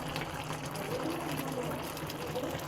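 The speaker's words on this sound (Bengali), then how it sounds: "খিচুড়িটা অনেকটা বলক এসে পড়েছে।" Khichuri of rice and lentils boils in a covered pot, a faint, steady bubbling hiss that stays even throughout at low volume.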